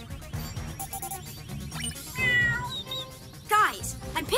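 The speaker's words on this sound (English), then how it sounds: "Guys, I'm picking up bird and cat sounds coming from the park." Cartoon cat meowing from a park, several distinct meows rising over a busy animated soundtrack with music and effects.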